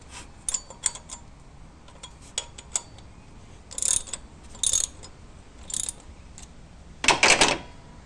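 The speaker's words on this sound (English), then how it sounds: "we're starting to remove that timing gear away from the oil pump" Sharp metallic clicks and ratcheting bursts from a puller working a stuck, corroded Subaru crankshaft timing gear off the crank, irregular and close, with several louder grinding spurts.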